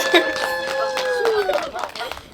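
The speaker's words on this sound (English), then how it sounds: "Everybody give Brandon a round of applause." A crowd at a Renaissance fair sideshow applauds a volunteer with sharp, uneven claps and whoops, while a tonal voice cries out over the clapping.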